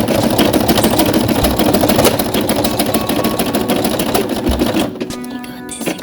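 A close, loud embroidery machine stitches out a test design on tear-away stabilizer, making a fast, steady mechanical rattle of needle strokes that changes pitch near the end as the motor slows, with no talking.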